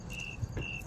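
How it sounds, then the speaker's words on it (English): Crickets living inside a house plant chirp in two steady, bright trills, close by and fairly loud, with a soft low thump between them and no talking. "There's crickets living in there."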